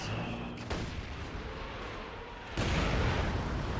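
Artillery barrage in a real-time strategy game: distant booms rumble faintly, then a much louder, dense wave of impacts surges in partway through and keeps roaring.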